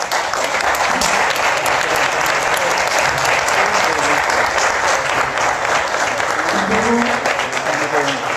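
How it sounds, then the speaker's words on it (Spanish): Sustained, loud applause from an audience at a session on migration and human rights, thick continuous clapping with faint voices murmuring underneath. "Dense un aplauso."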